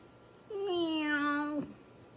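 A person's voice imitates a single drawn-out cat meow, close and clear and lasting about a second, during a children's library lapsit session.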